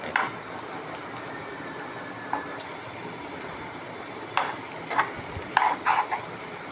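Fish roe being stir-fried and dried out in a hot pan, with a steady low sizzle broken by several sharp scraping and stirring strokes of a spatula near the end.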